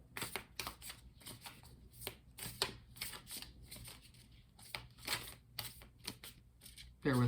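Tarot cards riffle and slap in a quick, uneven series of soft papery shuffles and snaps, close and fairly quiet, ending with a low thump.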